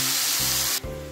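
Spice paste hitting hot tempered oil in a pan gives a loud, continuous sizzle and hiss close by, with a sudden change in texture partway through.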